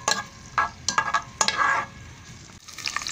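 Onions and tomatoes frying in a pan for spinach with boiled meat, with a steady sizzle broken by several sharp bursts of stirring and scraping, close and fairly loud, with no talking.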